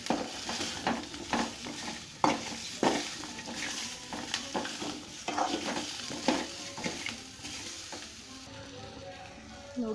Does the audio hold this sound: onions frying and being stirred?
yes